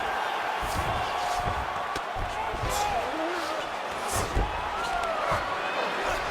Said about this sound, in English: So the crowd absolutely loving it as these fighters work their way back to the feet.